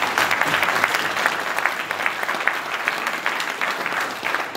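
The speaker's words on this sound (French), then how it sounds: "On va acclamer cela, s'il vous plaît." An audience claps steadily at a tribute ceremony in France honouring an elder, sustained applause from a crowd in a room, moderately loud and even throughout.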